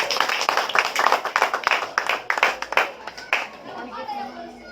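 Audience applause at a classroom teaching performance session, a burst of hand clapping that is fairly close and fades out over a few seconds, mixed with some crowd chatter.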